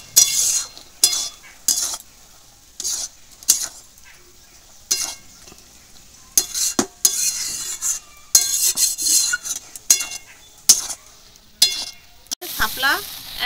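Spices fried and stirred with water lily stems cooked in fish oil, heard as repeated bursts of close, harsh sizzling and scraping against the pan, separated by quieter pauses.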